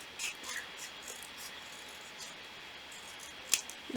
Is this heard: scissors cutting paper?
yes